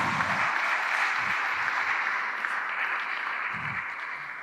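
Applause from the audience at a new stadium presentation in Italy, a steady wash of moderate clapping with a few low thumps mixed in, fading slightly over four seconds.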